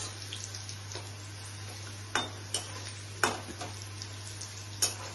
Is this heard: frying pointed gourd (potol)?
yes